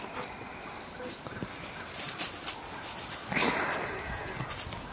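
A dog whimpers and yips faintly in short bursts outdoors, with scuffling and digging noises around it and a brief louder rustle near the end.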